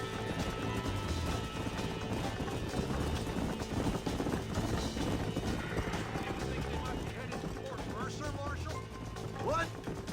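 Horse hooves galloping in Red Dead Redemption, a steady rapid clatter of several riders that runs through the whole stretch beneath shouting voices and game music.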